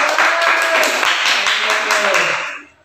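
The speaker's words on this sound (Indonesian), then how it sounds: "Tepuk tangan dong." A classroom of students clapping hands together in a dense, lively burst that holds steady for over two seconds and then quickly dies away.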